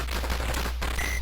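Side cannons firing in the 1984 Capcom arcade game 1942, a brief burst of rapid gunfire over a constant low electronic hum, all within about a second.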